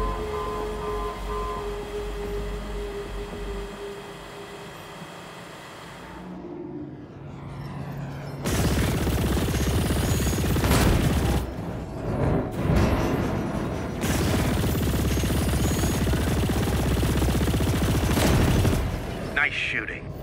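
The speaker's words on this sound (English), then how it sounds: "Nice shooting, but the section is under lockdown." Rapid bursts of spaceship gunfire crackle and roar in the Chorus space combat game, coming in two long loud volleys after a quieter stretch of engine hum, with a voice speaking over the action.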